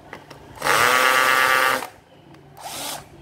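A Japanese cordless drill switched into hammer mode runs in one loud burst of just over a second, rattling hard, then gives a shorter, quieter second burst close by.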